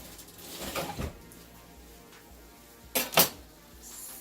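Kitchen utensils and spatulas clatter as someone rummages for them, with two short bursts of metallic clinking and rattling separated by a quiet pause.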